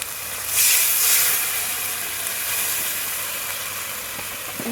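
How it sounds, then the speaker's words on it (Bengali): Water poured into a hot spice mixture in a pan for a soybean dish in a village kitchen bursts into a loud sizzling hiss that surges at once, then settles into a steady, softer sizzle. "এবার এই মিক্সচারটা দিয়ে একটু জল দিয়ে দেবো।"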